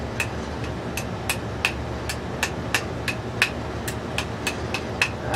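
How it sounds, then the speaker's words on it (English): A hammer taps an oiled part into place during a T96 transmission assembly, a steady run of sharp, close metallic knocks about every half second, with no talk. "Hammer, tap it in."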